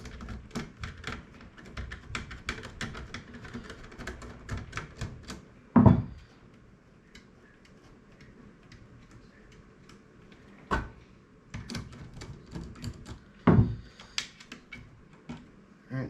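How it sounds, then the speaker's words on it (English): A 1/4 inch nut driver unscrews a screw from a GE dishwasher control board with a run of quick, light ticking clicks. Louder knocks and clunks follow at a few points, and the sounds are close by with no speech. "So we're going to unscrew that."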